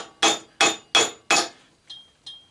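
Hammer blows striking a small fan motor with a cast aluminum housing, held in an open vise. There are four loud, sharp metallic strikes at an even pace, then two fainter, ringing taps. The blows are close and there is no talk.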